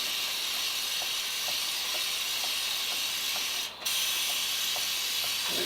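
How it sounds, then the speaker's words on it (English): A steady, loud aerosol hiss as chain lube is sprayed onto a Royal Enfield Interceptor 650 motorcycle chain, with faint regular ticking as the wheel turns, and a brief pause near the end before the spray resumes. "just give your chain a good spray all the way around the chain lube"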